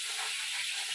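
Hot olive oil sizzles in a pan with a steady, bright hiss that holds evenly for a second, close and alone with no talk.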